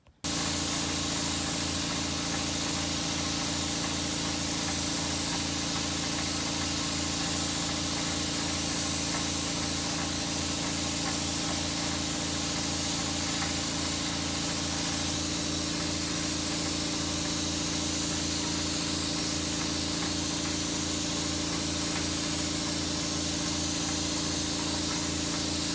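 Continuous loud hiss of a spray gun laying clear coat on a Massey Ferguson 1105 tractor, a steady broadband spray over a low compressor hum lasting the whole stretch without a break.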